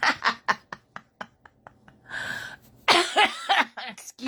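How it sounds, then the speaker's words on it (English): A person coughs in a rapid series of sharp, close bursts, pausing for a strained breath before breaking into more harsh, choking coughs. "Excuse me while I cough and choke."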